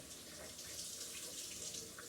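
Water runs steadily from a tap over a sink, a soft continuous hiss and splash at low volume, alone without talk.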